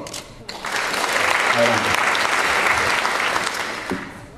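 A comedy club audience at a stand-up show applauds in a steady, lively burst of clapping for several seconds, with someone briefly speaking over it.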